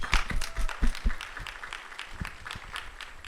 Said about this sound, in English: I want to give a round of applause for the organization